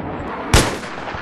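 A single loud gunshot rings out in a first-person shooter game, a sharp broadband crack with a short decaying tail, standing alone against quiet background noise.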